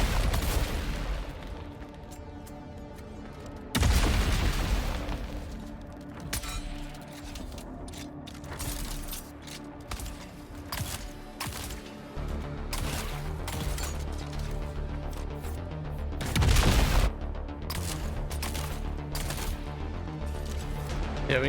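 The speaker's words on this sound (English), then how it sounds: "I'm getting rocket spammed again." Rocket explosions and weapon fire in the video game Dune Awakening: repeated sharp blasts and crashing bursts, some heavy and booming, over a dense layer of mechanical game sound and rapid gunfire.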